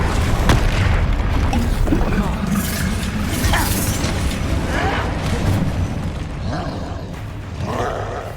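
A Bombarda spell blasts with a heavy, booming magical explosion in the Hogwarts Legacy video game, rumbling loudly amid a dense, roaring battle soundscape.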